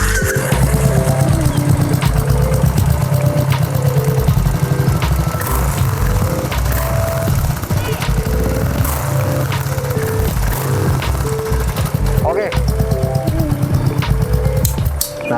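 A single-cylinder 500 cc Royal Enfield motorcycle with a Sharp aftermarket exhaust rumbles loud and close, its thumping idle broken by repeated revs, with a brief spoken word over it.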